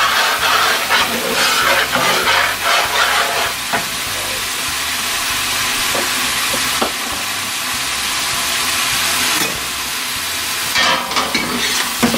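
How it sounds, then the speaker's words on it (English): Sausage fries in a pot for Cajun gumbo, giving a loud, steady sizzle with scattered crackles and pops throughout and no talking. "you just want to let it kind of fry a little bit"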